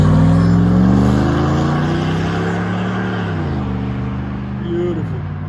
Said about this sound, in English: 2004 Dodge Dakota Crew Cab V8, which means it's gonna sound phenomenal